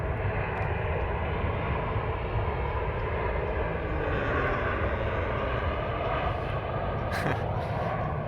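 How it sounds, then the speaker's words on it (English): A propeller or jet airplane passes overhead with a steady, loud, broad engine roar that fills the whole stretch without letup, no voices over it. "we're going to let this airplane go by real quick"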